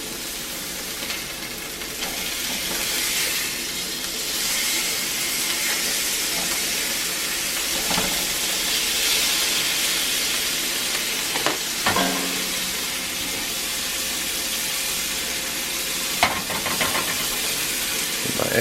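Burger and waffle sizzling together on a cast iron griddle, a steady broadband frying hiss that runs throughout with occasional scraping clicks of a utensil, close and fairly loud with no talking.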